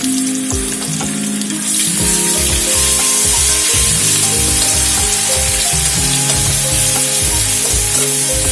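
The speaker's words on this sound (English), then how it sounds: "We'll fry it for a few seconds." Ginger garlic paste and green chilies frying in hot oil for vada pav filling, a loud, close, continuous sizzle that jumps sharply as the ingredients hit the pan, with clattering stirs underneath.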